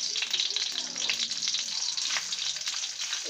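Julienned ginger frying in hot oil with cumin seeds in a non-stick pan: a loud, dense, unbroken sizzle, close up and without voices.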